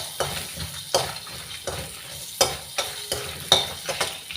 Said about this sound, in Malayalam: ഒന്ന് വറുത്തെടുക്കട്ടെ